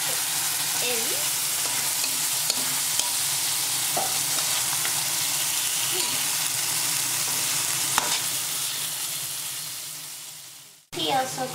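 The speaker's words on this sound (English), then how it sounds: "So over here I have about 600 grams of lamb, which I'm now going to put in." About 600 grams of lamb sizzles steadily in a pot for goat soup, a continuous frying hiss with scattered scrapes and clicks of stirring, fairly loud and close, cutting off abruptly near the end.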